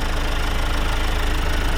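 A 2025 Kia Carnival's 2.2-litre turbodiesel idles close up with the hood open. It gives a steady, loud diesel clatter and rumble with no pause.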